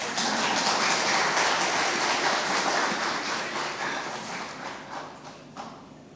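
An audience claps together at a gathering, a dense burst of applause that starts loud and then slowly thins out and fades over several seconds.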